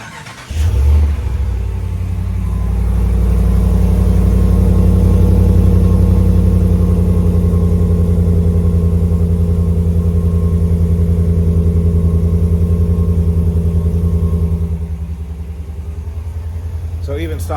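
A 2019 Ram Rebel with the 5.7 engine and stock exhaust cranks and fires, flares loudly, then settles into a deep, steady idle that drops slightly toward the end, close and loud.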